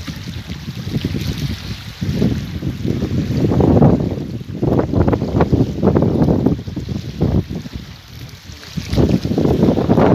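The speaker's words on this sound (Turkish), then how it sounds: "İyi rüzgar var." Gusty wind buffeting the microphone in loud irregular bursts, with rushing water of a dam reservoir faintly beneath, no voices, on a wavy day at Obruk Dam.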